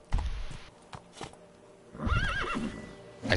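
Roach, Geralt's horse in the video game The Witcher 3: Wild Hunt, lets out a loud, wavering whinny near the end, preceded by a few scattered hoof clops and thumps, with no talk over it.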